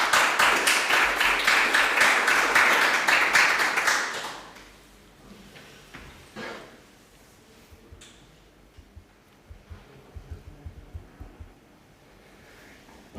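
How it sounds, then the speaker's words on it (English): Audience applause at the Ruralizable startup pitch competition at Startup Olé '21. Loud, steady clapping for about four seconds fades into a quiet room with scattered faint taps and knocks. "Okay, an applause for him."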